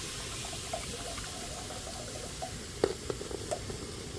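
Water is poured into a pressure cooker holding mutton, a steady soft splashing trickle with a few small clinks toward the end, close and fairly quiet.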